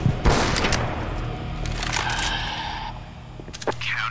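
Counter-Strike gunfire, including sniper rifle shots: several sharp cracks, one near the start and more around the middle and end, with game noise and a voice talking over it.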